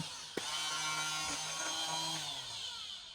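An electric cordless grass cutter switches on with a click and runs with a steady high-pitched whirring motor hum that slowly winds down, close and alone.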